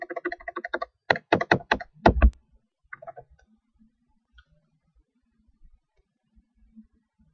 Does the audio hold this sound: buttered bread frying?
no